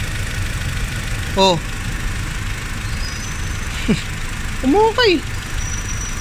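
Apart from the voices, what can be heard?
Honda Civic engine idling with misfire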